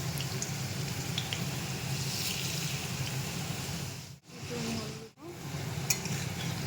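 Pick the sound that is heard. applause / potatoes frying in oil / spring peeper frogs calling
potatoes frying in oil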